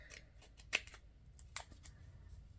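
Scissors snip close and quiet through candle embellishment material with pressed flowers, two sharper cuts among softer handling rustles.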